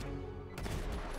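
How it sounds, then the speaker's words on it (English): Bullet explosions in the top-down shooter game Neon Chrome: a dense, loud burst of rapid gunfire and blasts that runs continuously, with a sharper crack partway through, and no talking. "Certainly love the first bullet explosion though."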